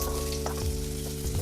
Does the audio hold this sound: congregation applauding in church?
no